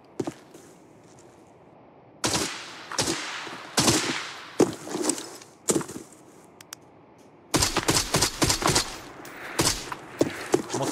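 Bursts of gunfire from the shooter game Arena Breakout Infinite, sharp cracks in short volleys and single shots, loud and close, separated by quieter gaps with faint background sounds.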